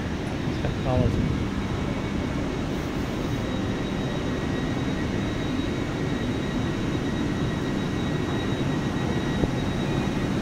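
A large, empty passenger train at Edinburgh Waverley station in Scotland gives off a steady, broad low rumble and hum that runs throughout, with a person speaking over it.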